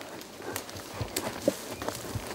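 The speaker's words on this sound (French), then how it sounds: "Dès que le cheval avance doucement" A horse walking slowly under a rider during a dressage session, its hooves giving soft, irregular clip-clop steps against a faint, noisy background.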